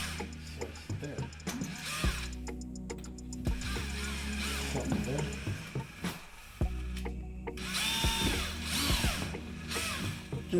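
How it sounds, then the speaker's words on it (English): A power drill whirs and grinds in bursts through plasterboard, pausing briefly between runs, with ratcheting mechanical rattles close by. "So we're just drilling through the plasterboard."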